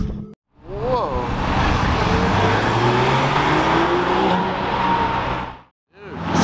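A rare 650 coupe sports car drives past nearby, its engine roar rising and falling over about five seconds, with a brief gap before another rush of engine sound at the end.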